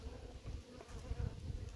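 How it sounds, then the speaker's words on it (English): Italian honeybees in a freshly caught swarm hum in a low, continuous drone, close and steady throughout the short moment. "These are little lighter colored bees, not like the first one where they were Russian"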